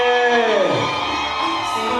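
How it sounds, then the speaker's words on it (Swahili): Wedding guests ululate and whoop together in a loud, close crowd burst, high trilling voices sliding downward and then holding over cheering. "Vigelegele."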